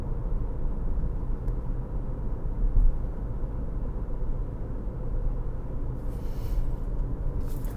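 Steady low road rumble and engine drone fill the cabin of a Jeep Compass Trailhawk under way, an even broadband hum with a faint bump near the middle and no voices.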